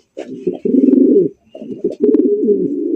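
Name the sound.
racer pigeons cooing at a pigeon market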